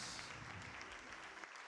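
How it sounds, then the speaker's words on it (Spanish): A church congregation claps together in a faint, continuous patter of applause during a worship service, heard from a distance. "Le damos uno de los mejores aplausos al Señor"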